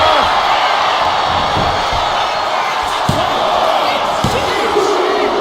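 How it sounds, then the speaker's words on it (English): A dense, roaring crowd fills a WWE wrestling arena at a live event, loud and continuous, with occasional thuds from the ring cutting through. "What a raucous crowd here tonight."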